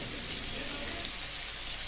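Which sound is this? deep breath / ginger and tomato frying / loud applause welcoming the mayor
ginger and tomato frying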